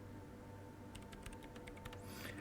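Keyboard typing in the Disco Elysium video game: a quick run of light key clicks over a steady low background hum, fairly close and at moderate volume, with no speech.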